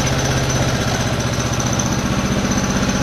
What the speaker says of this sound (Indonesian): Mesin menyala Kak.